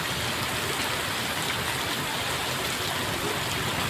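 Steady rain pouring down, a dense continuous hiss of drops on surfaces heard at moderate distance, unbroken and even throughout with no voices.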